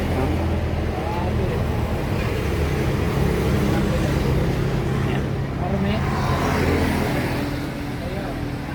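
Isuzu 4HF1 diesel engine idling roughly and misfiring with white smoke, a steady close rumble with uneven chugging as it falters toward stalling, someone talking over it.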